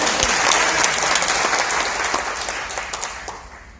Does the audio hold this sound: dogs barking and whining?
no